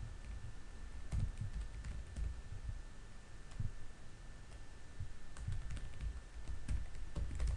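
Someone types an email address on a computer keyboard, a steady run of soft, close key clicks with uneven rhythm in a quiet room, with no speech.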